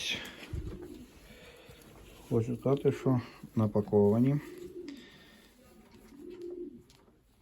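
Pigeons coo softly and repeatedly in a dovecote while someone talks nearby, handling and ringing a plump young pigeon; the low cooing phrases return between his words.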